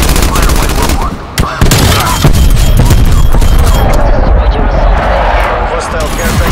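Sustained air patrol gunfire in the video game Black Ops Cold War, a loud, dense barrage of rapid bursts and booms that rolls on almost without pause, with game voices and radio chatter mixed in underneath.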